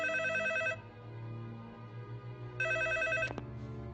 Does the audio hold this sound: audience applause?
no